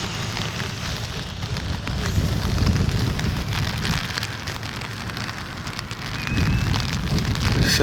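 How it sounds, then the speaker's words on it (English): Steady December rainfall patters on surfaces nearby outside a correctional facility, a constant hiss with a slightly heavier swell toward the end; no voices. "It is raining."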